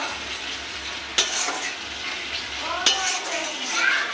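Spice masala frying in oil while a spoon stirs it in a pan, with a steady close sizzle and two sharp metallic taps against the pan's rim.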